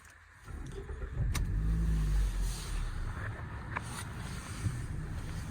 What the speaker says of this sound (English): Let's start her up and see the startup sequence.